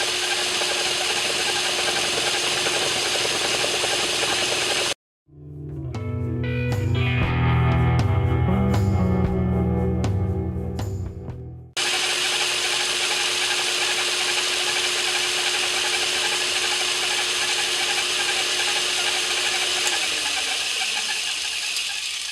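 A lathe parts off a piston for a twin vertical wobbler engine, a steady machine whine and scraping drone running throughout, broken by a few seconds of deeper rumbling, tonal cutting before the hum resumes; no talking.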